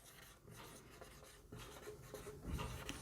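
Pen or pencil writing on paper, spelling out French verb conjugations, a continuous soft scratching with short strokes and pauses, close and fairly quiet.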